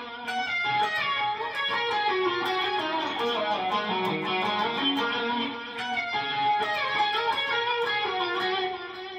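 Electric guitar tuned a half step down plays a country-rock riff at full speed from a song, with clean, steady picked notes running continuously and a brief dip in the middle.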